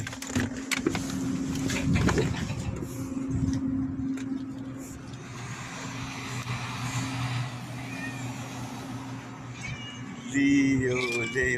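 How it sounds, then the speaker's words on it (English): Several cats meow and cry intermittently amid steady background noise, with a louder, closer yowl near the end. "I can hear them crying already."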